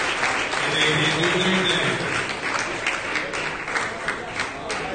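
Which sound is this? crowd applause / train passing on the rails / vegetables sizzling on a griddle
crowd applause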